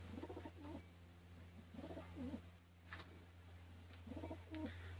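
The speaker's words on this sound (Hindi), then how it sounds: "ये कबूतर है और ये इसकी कबूतरी, ये नर और ये मादी।" Masakali fancy pigeons, a male and female pair, give soft low cooing phrases three times at a steady spacing over a constant low hum, close by, with no talking.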